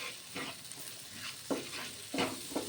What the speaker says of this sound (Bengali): নাড়াচাড়া করে নিচ্ছি ভালো করে।